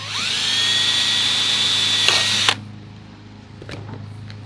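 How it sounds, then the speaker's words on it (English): A power drill bores a hole in the corner of a cleanup sluice for a pop rivet, a steady high whine for about two and a half seconds that cuts off abruptly, then a few faint clicks. "So I'm going to drill that."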